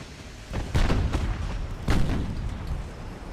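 Naval gunfire striking an old heavy cruiser during an 1890s sea battle in Ultimate Admiral: Dreadnoughts, two deep booming impacts about a second apart over a rumbling background of distant fire.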